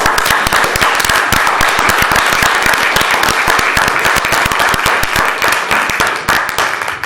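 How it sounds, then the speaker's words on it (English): A round of applause at a city council meeting: many hands clap loudly and close together in a brisk, sustained burst that begins to thin and fade in the last second. "please join me in a round of applause for this group"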